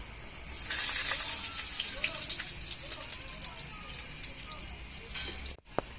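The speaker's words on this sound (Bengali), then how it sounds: "জিরেটা ফুটে গেলে আমি তুলে নেব।" Cumin seeds sizzle in hot oil in a wok for a fish dish, starting as a bright crackling hiss that grows loud after the first second, then settles into softer popping.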